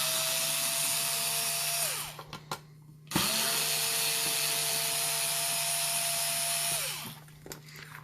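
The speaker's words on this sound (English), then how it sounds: "And I'll just unscrew it right now." A powered driver spins out screws from a small device with a Phillips #1 bit in two long, steady whirring runs broken by a short pause, close and loud with no talking.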